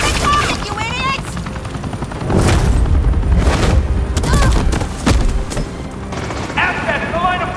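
Gunfire crackles in a Batman: The Enemy Within game scene, bursts of shots and booms over a helicopter rumble while characters shout and talk.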